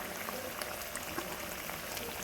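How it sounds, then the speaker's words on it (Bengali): A bhola fish curry simmers in its pan while mustard oil is sprinkled over it, giving a soft, even bubbling hiss with faint scattered pops, steady and fairly quiet throughout. "আমি ওপর থেকে একটু সর্ষের তেল ছড়িয়ে দেবো"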